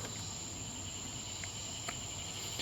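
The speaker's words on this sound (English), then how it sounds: "I'm hearing tons of the Robinson cicadas right now." Robinson cicadas call in a dense, continuous high buzz that holds steady throughout, fairly faint and distant, with no voices over it.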